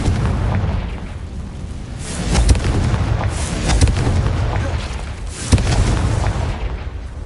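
Explosions from the Confringo spell in Hogwarts Legacy, several heavy booming blasts with rumbling tails, loud and close, recurring at irregular intervals over a constant low background.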